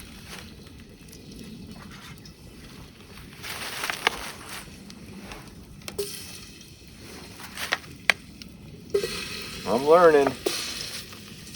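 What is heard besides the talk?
food sizzling in a pan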